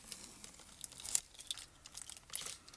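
Masking tape being peeled and handled for reuse on a hibiscus airbrush stencil, giving soft crinkling and tearing rustles with a few sharper crackles, close and quiet, with no talking.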